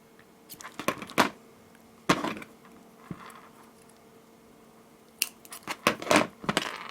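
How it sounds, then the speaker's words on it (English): Scissors snip through the end of a black bracelet cord in a few sharp, close clicks and crunches, with quiet pauses between cuts. "I will cut the end of the cord"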